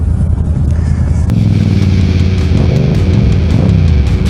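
A motorcycle engine with an aftermarket exhaust pipe is spun up hard at a motorcycle show, a loud, steady, close rumble that swells and holds throughout without talk.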